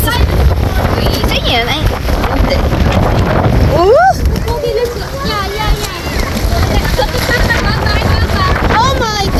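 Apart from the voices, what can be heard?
strong wind at seaside resort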